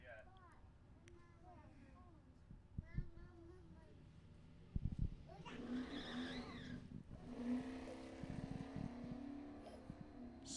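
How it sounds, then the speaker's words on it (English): A 1992 Firebird street eliminator drag car spins its wheels at the drag strip, with a sudden engine roar and tire squeal rising midway and carrying on under a commentator's steady talk. "Spins the wheels a little bit there."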